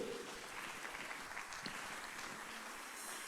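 A church congregation applauds loudly, a steady wash of clapping heard from a distance in a large room.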